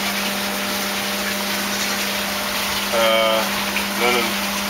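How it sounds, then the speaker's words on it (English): A water pump in the sump of a small DIY tilapia aquaculture system, running as a steady hiss and hum with a constant electrical drone, while someone speaks over it briefly. "Then it comes out of the sump directly to the pump. Pump pumps the water up"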